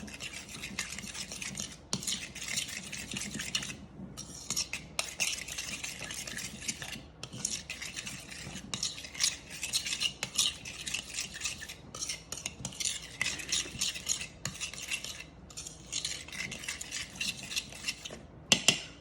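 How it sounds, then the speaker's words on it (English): A utensil stirs mayonnaise, vinegar and sugar into macaroni pasta salad in a bowl, a steady run of wet scraping and squelching strokes with brief pauses, close up with no voices. "So keep on stirring it as much as you can so that it doesn't split."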